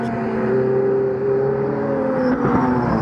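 Porsche 991 Cup race cars on the Dijon-Prenois circuit: a steady, close engine drone with sustained tonal whine, a slight shift in pitch near the end as cars pass.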